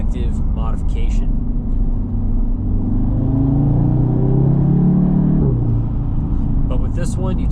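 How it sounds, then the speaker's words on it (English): Audi TTS with an aftermarket intake and resonator delete, engine and exhaust droning loudly and steadily, rising in pitch as it accelerates before an upshift drop near the end, with a voice briefly heard at the start. "with this one, you definitely get a little bit more of that kind of aggressive bite on that ignition cut with those upshifts"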